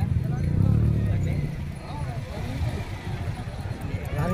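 Horse hooves clip-clop in a steady rhythm on Dumas Beach in Surat, mixed with crowd chatter and nearby voices.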